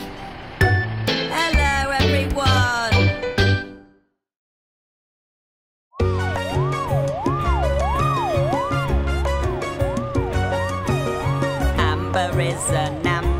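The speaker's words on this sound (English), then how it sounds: "Is an ambulance." An ambulance siren wails in an animated kids song, a rising and falling electronic tone cycling steadily over bright music after a brief silent gap.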